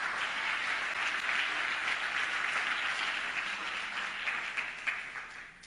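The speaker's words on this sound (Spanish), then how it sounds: "Alguien diga amén y aplauda al Señor con fuerza." A church congregation applauds after a sermon on spiritual corruption, sustained broad clapping that holds steady for several seconds and then tapers slightly, with no talking.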